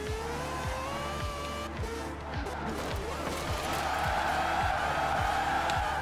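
A four-rotor rotary Mazda RX-7 engine in Forza Horizon 4 revs high and repeatedly, with a whining tone and regular pulses, accompanied by some skidding noise.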